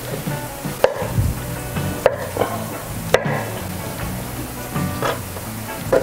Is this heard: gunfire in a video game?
no